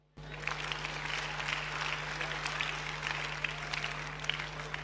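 Audience in a church applauding steadily throughout, a dense sustained clatter of clapping with a constant low hum underneath.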